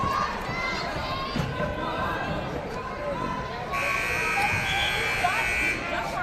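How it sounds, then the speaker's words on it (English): A long electronic buzzer blares in a school gym during a high school wrestling match, a sustained harsh tone over crowd noise and an announcer's voice, with a second buzzer tone joining partway through. "that can be confusing when the buzzer goes off at another clock there"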